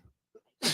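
A single sharp sneeze bursts out near the end after a short faint breath and quiet pause, loud and close against an otherwise hushed background.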